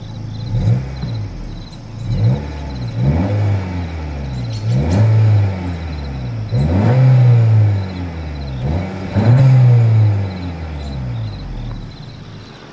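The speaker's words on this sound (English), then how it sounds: "As always, here is that exhaust clip." Turbocharged engine of a 2024 Honda Civic, with its exhaust revving in about six repeated blips that rise and fall, each one swelling louder and then settling back to a steady idle between pulls.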